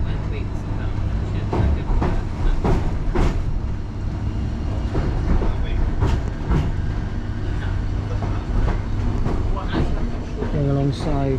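A train pulling out of Liverpool Street station in London rumbles and clatters steadily with repeated rail clicks, heard from on board, with people talking over it throughout.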